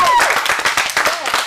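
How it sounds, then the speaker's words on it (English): An improv showcase audience gives a brief burst of applause, many hands clapping under a voice talking. "let's get one more big round of applause"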